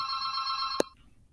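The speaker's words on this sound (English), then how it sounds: "my phone is ringing" A mobile phone rings indoors during a recorded maths lesson, giving a steady electronic ring that is cut off abruptly by a click, after which near silence follows. The sound is quiet and heard on its own, with no speech.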